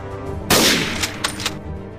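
A sharp, loud gunshot cracks out in a motion comic, followed by a couple of quicker, lighter bangs that fade into a quiet tail.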